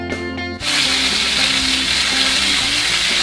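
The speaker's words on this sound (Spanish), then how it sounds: "Tenemos aceite caliente en la sartén." Chicken pieces hit hot oil in a frying pan and burst into loud, continuous sizzling that carries on steadily for about three seconds, following a brief moment of quieter kitchen sound.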